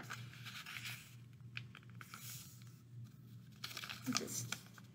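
Paper being folded and creased to make a paper helicopter propeller, with close crinkling and rustling bursts between quieter pauses and soft speech at a low level.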